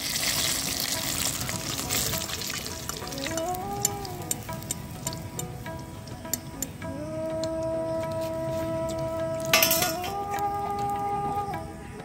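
Chicken pieces for crispy village-style KFC chicken fry in hot oil with a continuous close sizzle and bubbling, while fowl cluck faintly in the background.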